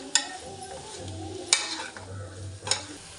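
Masala and chicken being stirred in a biryani pot over a low sizzle, with three sharp scraping clanks of the spoon against the pot, close and fairly quiet.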